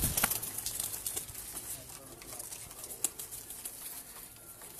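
Pigeons coo and flap their wings in a loft, soft low calls and scattered wing bursts that come and go at a moderate distance, with no voices.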